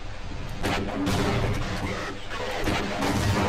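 A tank firing in the video game Half-Life Blue Shift, loud booming blasts with crashing, rumbling aftermath, close and heavy, repeated bursts over a few seconds.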